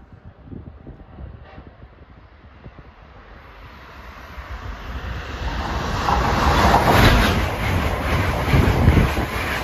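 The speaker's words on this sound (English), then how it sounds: "here's the first of our Amtrak trifecta. 2193, a Acela Express from Boston to New York" An Amtrak Acela Express bound from Boston to New York passes a station platform, a steady rumble and rush that builds from moderate to loud over several seconds, with wind buffeting and high rail hiss, with no voices.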